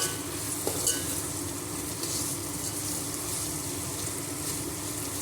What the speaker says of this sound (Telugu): పచ్చి వాసన పోయే వరకు కొంచెం ఫ్రై చేద్దామండి.